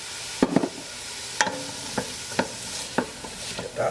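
Onion, celery and diced carrot sauté in a soup pot with a soft sizzle, while a spoon stirs through them in regular scraping strokes about every half second to a second.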